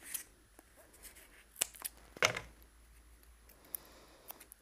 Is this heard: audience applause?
no